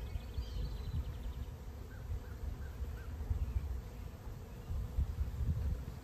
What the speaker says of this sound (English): Pretty calm bees, I'll tell you that much. I mean, they're a little jittery on the comb.